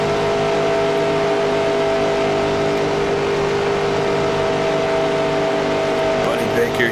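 Stock car engines roar continuously in a simulated 1981 Daytona race in NASCAR Racing 2003, a dense, loud, steady drone of a drafting pack with no break in the noise.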